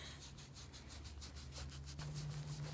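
Hands rub and scratch a barrel racing horse's coat outdoors in an orchard, a soft rhythmic back-and-forth brushing close by and fairly quiet, with no talking.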